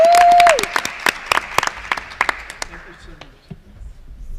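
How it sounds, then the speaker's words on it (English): Applause for Winston Perez at an educators and Hollywood professionals event follows a brief tone at the start, with sharp separate claps from a smallish audience that thin out and fade to scattered hand claps. "give a big round of applause for Winston Perez"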